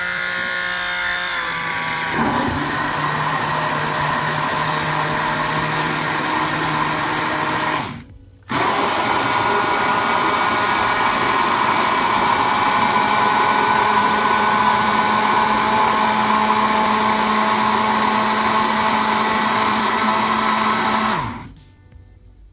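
A Kalorik two-speed hand blender mixer runs steadily with a loud motor whine, stopping briefly near eight seconds, then resuming and running until cutting off shortly before the end.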